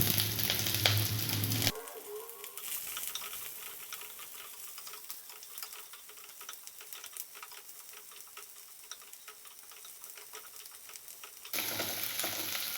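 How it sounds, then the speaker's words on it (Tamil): Onions, green chillies and curry leaves sautéing in hot oil with cumin in a pan, a steady soft sizzle with faint crackles, louder bursts at the start and end, no talk. "வெங்காயம் நல்லா வதங்கட்டும்"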